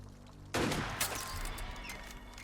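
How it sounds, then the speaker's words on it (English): A single sharp gunshot rings out in Assassin's Creed Unity, a loud sudden crack with a second smaller report just after, trailing into a lingering rumble and ambient game noise. "What was that? A gunshot?"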